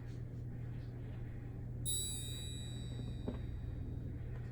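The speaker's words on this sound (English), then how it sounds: "Very nice triangle hit there." A single bright metallic ting from an orchestral triangle that rings out with a long shimmering decay over a low steady hum, fairly faint.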